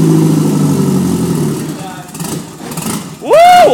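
A Nissan SR20 engine idles with a low, steady hum on a cold start, then fades and cuts out partway through, followed by a sudden loud shout.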